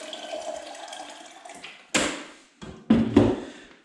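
Distilled water is poured and splashes in short bursts during beeswax clarifying, with a quiet running-water hiss at first and then several sharp, close splashes and knocks toward the end.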